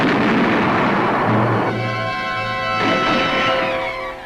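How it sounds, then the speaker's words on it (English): A wartime cannon fires a supply shell loaded with food and medicine, a single heavy boom followed by rolling rumble and reverberation, with sustained tonal hum mixed into the fading tail. "Shells are loaded with food and medicine instead of explosives to be fired across enemy lines"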